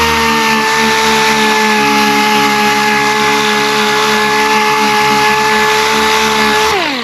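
A power sander grinds a deep scratch in boat gelcoat with a loud, close, continuous whine that holds a steady pitch, then drops as the tool spins down at the very end.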